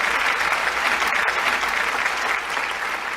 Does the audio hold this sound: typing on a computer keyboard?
no